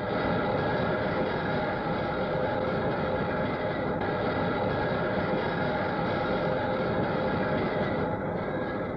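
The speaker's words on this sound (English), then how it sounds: "It is here that the new trains move under their own power for the first time" Loud, steady roar and rumble of a 1960s Victoria line electric underground train moving under its own power, unbroken for the whole stretch with no voices.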